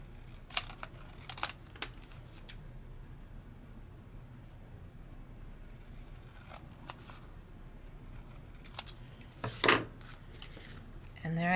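Scissors fussy cutting around a paper craft piece on a work table, giving a few short crisp snips spread apart, including a sharper cluster of cuts near the end, with quiet room noise between them.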